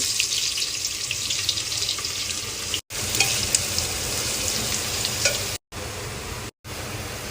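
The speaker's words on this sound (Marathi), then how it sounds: "मी कुकरमध्ये तेल घेतलेलं आहे आणि आता याच्यामध्ये हे बारीक स्लाइस केलेले कांदे गोल्डन ब्राऊन करून घ्यायचे" Finely sliced onions fry in hot oil inside a pressure cooker, cooked toward golden brown for chicken biryani. A loud, steady sizzle and crackle runs throughout, broken by a few brief silent gaps.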